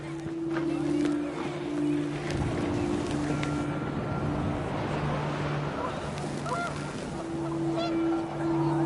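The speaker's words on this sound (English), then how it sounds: "The wind picked up, and panicked geese appeared and quickly went." Panicked geese honk in a busy, overlapping chorus over gusting wind in the video game What Remains of Edith Finch, steady and fairly loud for several seconds.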